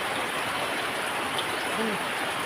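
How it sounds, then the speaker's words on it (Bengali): Light morning rain falls gently over a rural rice-farming area, a soft even hiss of drops that stays faint and continuous, with a brief low hum near the end. "সকাল সকাল কত সুন্দর করে এইদিকে ধীরে ধীরে বৃষ্টি পড়ছে"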